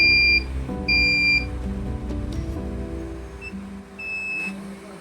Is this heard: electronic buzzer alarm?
yes